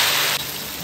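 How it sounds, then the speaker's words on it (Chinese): Crayfish deep-fry in moderately hot oil in a home kitchen, giving a loud, dense, continuous hiss and crackle for under a second. "五成油温下锅炸"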